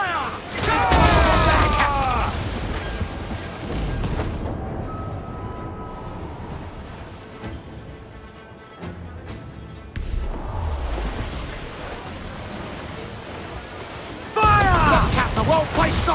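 Ship cannons booming in Assassin's Creed 4 Black Flag during a naval battle, heavy blasts near the start and again at the end, with crew shouting between volleys.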